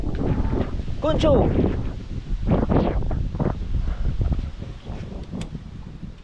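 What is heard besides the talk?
strong wind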